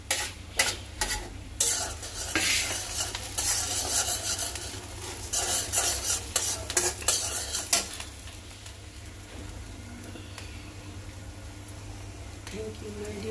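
Onions frying in a pan at home for lunch, a busy sizzle with scraping stirs of a utensil, louder and choppier early on and settling into a steady hiss toward the end.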